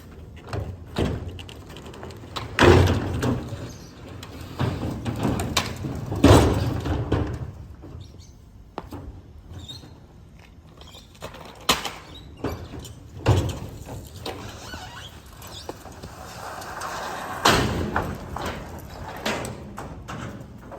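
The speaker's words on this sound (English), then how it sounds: "We got called back to haul away this garage door." A storm-damaged roll-up garage door is dragged and handled during junk removal in Phoenix, Arizona, giving scattered metallic clanks, thuds and scraping at moderate distance, with some irregular louder bangs.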